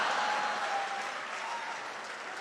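Audience applause at a Hindi satirical comedy performance: a dense, even wash of many hands clapping, steady and fairly loud throughout, then easing off slightly toward the end.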